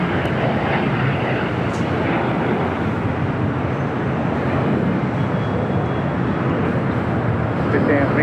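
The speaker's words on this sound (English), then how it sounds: "We have a couple of heavies landing on the south side." Heavy jet airliners landing on the south side runways at Los Angeles International Airport, a steady broad engine roar that holds throughout at moderate distance, with radio chatter mixed in.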